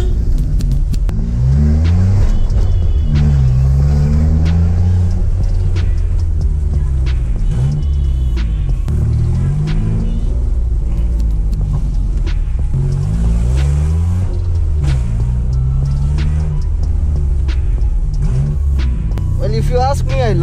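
A stationary Hyundai Eon with a loud custom exhaust revs repeatedly, the engine swelling and dropping in deep rumbling waves, very loud and close, while people talk over it.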